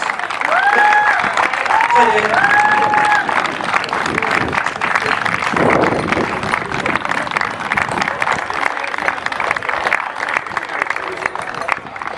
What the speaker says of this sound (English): can we give a round of applause to our runners-up, North East Lions